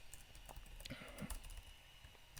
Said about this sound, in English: So I have this typewriter sample that I already had